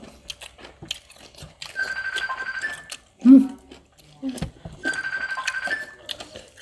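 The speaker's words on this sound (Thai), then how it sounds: "เสียงโทรศัพท์เนาะ" A telephone rings twice in short trilling bursts during an outdoor meal, mixed with crunchy chewing and biting sounds close by and some talk.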